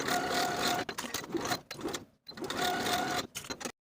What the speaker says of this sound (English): Sew with a 1/2 inch seam allowance and press the seams open.